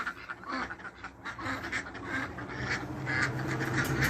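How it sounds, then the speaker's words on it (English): Cayuga ducks quack repeatedly in a busy, overlapping chorus, close by and steady, with no talking. "our 2 Cayugas are the nicest ducks we had"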